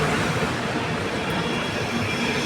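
Howrah Ranchi Shatabdi Express arriving at a station platform, hauled by a WAP7 locomotive, a broad, steady rumble and roar of the passing train close by, continuous and loud with no voices.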